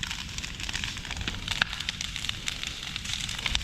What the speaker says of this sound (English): When things go ba-boom, you don't know what it was.